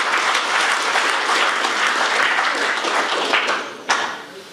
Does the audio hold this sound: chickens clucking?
no